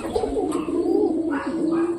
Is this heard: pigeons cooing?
yes